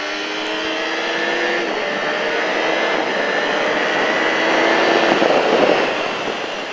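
A motorcycle accelerating hard around a race track at Alès, a loud sustained engine roar rising in pitch and swelling nearer toward the end.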